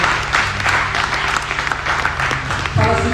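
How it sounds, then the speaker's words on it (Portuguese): A church congregation claps in a dense, continuous wave of applause that fills the room, with a faint murmur of voices mixed through it. "Você pode aplaudir ao Senhor Jesus nesse momento?"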